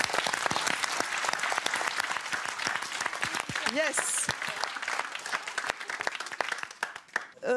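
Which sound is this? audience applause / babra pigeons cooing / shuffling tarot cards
audience applause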